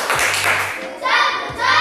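A primary classroom of students gives a rhythmic group clap cheer, with short bursts of clapping mixed with chanting children's voices close by.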